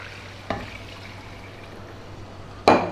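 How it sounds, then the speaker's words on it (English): Water poured into a pan for chicken soup in a home kitchen: a short splash near the start, then a quiet stretch before a louder burst of pouring and sloshing at the end. "Now next up we're going to add some liquid. I'm using water today."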